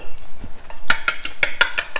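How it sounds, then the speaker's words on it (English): A spoon stirs black pepper and salt into a bowl for eggplant parmesan, a quick run of bright clinks and scrapes against the bowl, close and distinct with no talk. "Mix it nicely."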